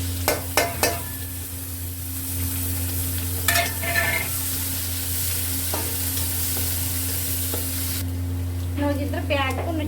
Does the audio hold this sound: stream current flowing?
no